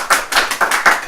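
At a church Bible lecture, hands clap in a steady rhythmic beat, about five loud, close claps in quick succession with no talking over them.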